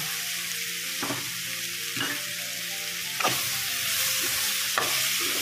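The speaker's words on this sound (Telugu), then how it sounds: "ఇప్పుడు టమాటా ముక్కలు వేసుకోవాలి." Tomato pieces hit a hot pan of okra and raw prawn stew with a steady loud sizzle, and four or five scraping stirs land about a second apart, close up with no voices.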